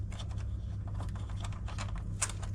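A narrow-headed ratchet wrench with a 10 mm socket undoing a nut on an LG washing machine during a bearing replacement, giving rapid, fairly quiet clicking in short bursts over a steady low hum.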